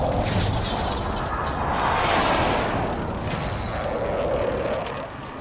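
A precision airstrike lands in a video game: heavy, continuous booming explosions and rumbling debris roll on loudly for several seconds before easing off slightly at the end.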